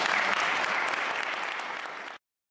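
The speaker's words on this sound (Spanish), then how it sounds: "Un aplauso" Applause from an audience at a school painting contest event, a dense steady burst of clapping lasting about two seconds before cutting off abruptly.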